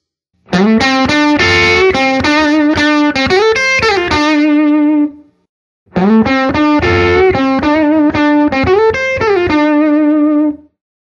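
Electric guitar through a Vox AC30 valve amplifier with an overdriven, effected tone: two loud strummed chord phrases of about five seconds each, split by a short silence, played alone with no voices.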